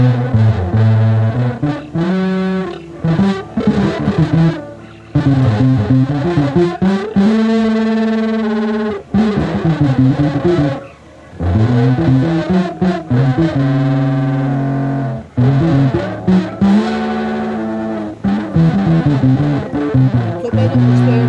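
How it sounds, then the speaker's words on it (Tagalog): A bass guitar played through a distortion effect in a home effects setup: loud, gritty sustained notes and riffs with brief pauses, continuous across the passage. "lalagay ko ng distortion."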